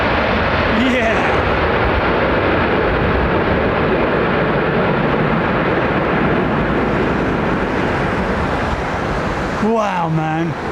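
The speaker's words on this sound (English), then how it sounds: "Sounds like an F-15 taking off, doesn't it?" A jet aircraft takes off at London Heathrow as a loud, steady, broadband roar that holds for the whole stretch, with a brief voice near the end.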